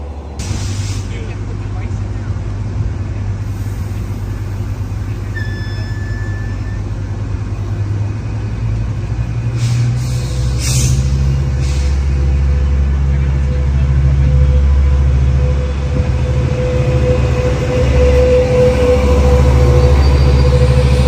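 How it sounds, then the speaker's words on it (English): A train slows to a stop at the Fullerton station, a heavy low rumble running throughout with thin, high wheel squeals rising briefly near the middle, and someone talks over it. "there goes the squealing of the rail wheels there"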